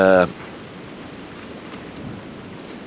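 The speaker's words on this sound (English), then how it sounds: "The wind is howling 40, 50 miles an hour at times, gusting" Strong, cold wind howls outdoors with gusts of 40 to 50 miles an hour, a steady broadband roar that follows a brief voice at the start.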